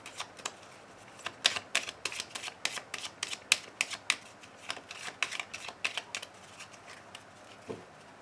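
Oracle cards are shuffled and drawn by hand, a quick run of crisp papery riffles and flicks in an irregular rhythm, close and fairly quiet, with no talking.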